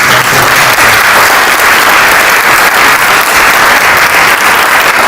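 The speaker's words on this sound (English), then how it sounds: "Can we have another big round of applause for us?" Very loud, dense round of applause from an audience at a music and meditation book launch event, a thick unbroken roar of many hands clapping at once, steady from start to finish.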